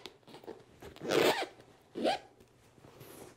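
A zipper on the cover of a cervical memory foam pillow is pulled in two quick, close, crisp strokes, with a softer rustle after, and no talking.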